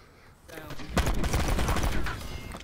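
Rapid automatic fire from the Mozu in a video game: a quiet lead-in, then a dense loud burst of shots lasting over a second before tailing off.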